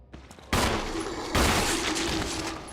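Loud game gunfire from Resident Evil 1 in the Spencer Mansion: a faint early pop, then two heavy blasts with long dense rumbling tails, the second hitting just under a second after the first.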